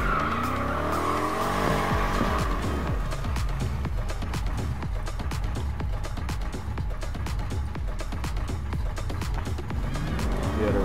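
A Mustang in the Need for Speed racing game spins its tires in a sustained burnout, with loud continuous tire squeal over a roaring, revving engine that runs unbroken throughout.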